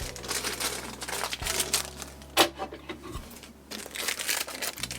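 Plastic and cardboard packaging from a Creality Ender-3 V3 SE 3D printer crinkles and rustles close by in irregular bursts, with a couple of soft thumps as parts are unwrapped.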